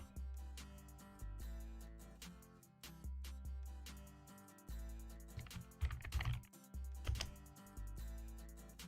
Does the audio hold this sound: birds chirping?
no